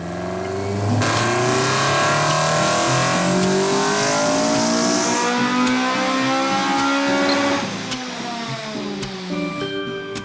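Honda Civic with a K-swap engine revving hard with no intake or air filter fitted, loud and close, the pitch climbing through repeated rising sweeps before easing back and revving again.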